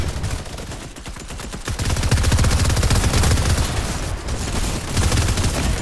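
Rapid, loud gunfire in a shooter video game, a hunting rifle among bursts that run almost continuously, close and dense with no talking.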